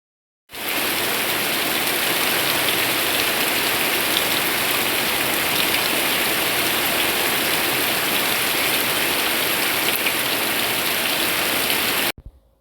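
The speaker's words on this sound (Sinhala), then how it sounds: "මේ වෙලාවේ අපිට හොඳටම වහිනවා." Heavy morning rain pours down in a continuous, loud wash of drumming drops, steady from start to finish with no voices.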